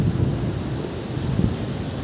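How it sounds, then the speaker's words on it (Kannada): A steady, heavy rushing roar of water pouring down at the overflowing Haluvagilu Waterfalls in Hassan, Karnataka, dense and continuous with no pauses. "ನೀರು ತುಂಬಿ ಉಕ್ಕಿ ಹರಿತಾ ಇದೆ"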